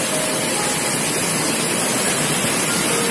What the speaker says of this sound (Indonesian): arus cukup deras di dam bareng